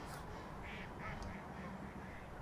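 Ducks and geese call at a flooded pond, a few short nasal quacks close by over steady outdoor background noise, with no talking.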